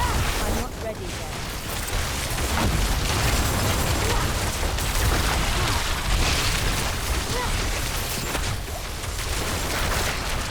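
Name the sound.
explosions in video game Diablo IV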